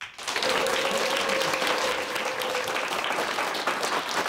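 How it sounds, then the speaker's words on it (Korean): A studio audience at a televised lecture applauds a guest speaker, with dense, continuous clapping that swells quickly and holds steady throughout, fairly loud and close. "큰 박수로 맞이해 주시기 바랍니다"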